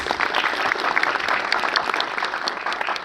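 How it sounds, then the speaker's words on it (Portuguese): An audience at an education forum applauds the socioeducational services teams, a dense, continuous burst of clapping from many hands filling the room. "Uma salva de palmas para eles"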